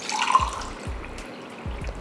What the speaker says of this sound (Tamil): இப்போ தண்ணி ஊற்றிடலாம்.